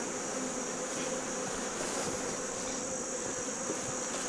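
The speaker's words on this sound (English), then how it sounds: "Wow, quite a few bees on the lid." Honey bees swarm over the lid of an opened hive during an inspection, a dense, steady buzz holding evenly throughout, close and continuous with no voices.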